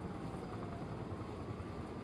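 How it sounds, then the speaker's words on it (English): A helicopter drones steadily overhead in the video game Quantum Break, its continuous low rotor rumble holding at an even loudness with no talk over it. "Better get inside before the chopper spots me."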